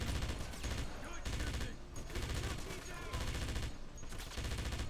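Automatic MG42 machine gun fire in the PC game Wolfenstein (2009), sustained rapid bursts with brief gaps, loud and close amid dense game noise.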